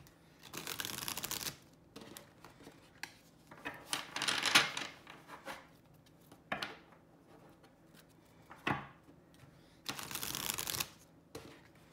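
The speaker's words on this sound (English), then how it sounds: "I'm going to give this a quick shuffle" Laminated tarot cards shuffled up close: several riffling bursts and soft slaps of cards being cut and squared, with quiet pauses between, no talking.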